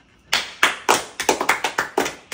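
A few people clapping on cue, about ten sharp separate claps in an uneven rhythm after a quiet start, close and clear with no talk over them.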